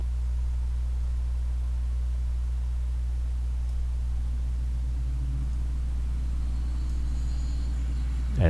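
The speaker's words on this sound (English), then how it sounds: "we have the world's loudest truck coming down the road" A very loud truck drives down the road past a golf course during a disc golf round, a heavy steady low rumble that swells near the end as it passes close.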